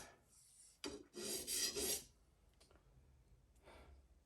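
A thick Tora MK1 FW khukuri blade is sharpened on T2 stones, producing a few close, raspy scraping strokes, one strong and sustained, followed by fainter passes in a quiet room.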